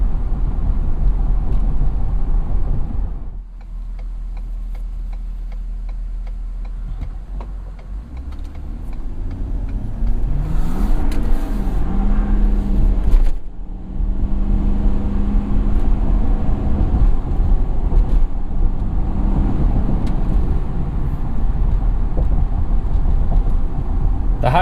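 A 2017 Ford F-250 Super Duty 4x4 with a Power Stroke V8 diesel accelerates hard, its loud engine roar swelling and rising in pitch over road noise, with a brief dip before the throttle opens and the load builds again.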